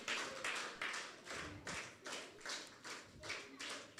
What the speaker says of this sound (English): So let's give her a big clap again.